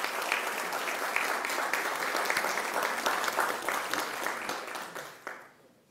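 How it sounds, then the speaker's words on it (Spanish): Applause for a cardinal at a Catholic honorary doctorate ceremony in Peru, a large crowd clapping steadily and densely throughout, then fading out at the end. "Un aplauso para nuestro Cardenal."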